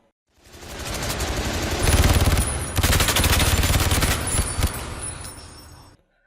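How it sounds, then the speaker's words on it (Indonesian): Sustained automatic gunfire from security forces in a film scene, a dense rapid burst lasting several seconds, loud and close, with no speech over it. "membuat Shane tertembak oleh berondongan peluru dari pihak keamanan"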